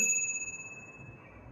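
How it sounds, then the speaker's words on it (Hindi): A small bell gives one bright, clear ring that then fades slowly with a long sustained shimmer, heard alone and close by. "कैसे मेरी सिद्ध की हुई शक्तियों ने इस घंटी को बजाया"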